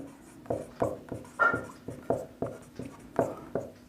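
Chalk or marker strokes on a board during a maths lesson, a steady series of about a dozen short scratchy taps and strokes, close and fairly quiet with no talk.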